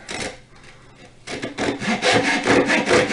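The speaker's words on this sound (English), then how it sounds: "just lapping them together like that" Two wooden boards rubbed back and forth against each other at a woodworking bench, giving dry rasping strokes that grow louder and busier partway through, with no talking.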